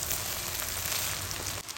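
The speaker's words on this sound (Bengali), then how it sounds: "দিয়ে এবার ওই তেলের সাথে একটু ভেজে নেব।" Cooked rice fries in hot oil in a pan, giving a steady, dense sizzle that runs unbroken and fairly close.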